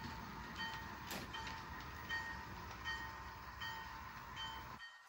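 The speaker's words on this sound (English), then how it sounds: "So we're going to push that into the string of cars" A model railway train pushes a string of rail cars into a yard track, heard as a faint, steady rolling hum with light clicking, alone and at low level.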